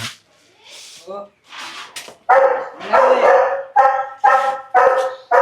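A dog barks repeatedly, a string of loud close barks at an irregular rhythm, with some softer whimpering sounds and voices early on.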